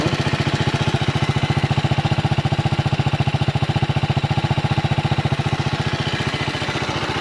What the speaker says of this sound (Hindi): इसकी थोड़ी सी आवाज़ सुनते हैं 310 RR की, जो कि है स्टॉक पे।